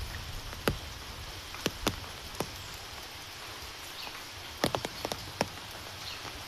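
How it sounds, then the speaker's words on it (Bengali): Morning rain falling around a house, with scattered sharp drips and drops landing on hard surfaces over a soft steady background patter, no voices. "আর সকালটা শুরু হয়েছে বৃষ্টি দিয়ে"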